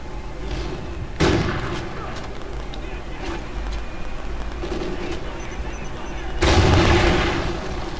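Two sharp, loud gunshot blasts about five seconds apart over steady game ambience in Call of Duty: Ghosts, with smaller pops between them.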